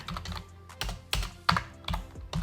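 A word typed on a computer keyboard, a short burst of close, crisp key clicks in an uneven rhythm, some taps louder than others, with no voices.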